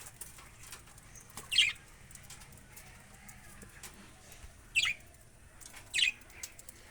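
At a feeder, three brief bursts of wing flapping from birds, spaced apart over a quiet background with faint chirps.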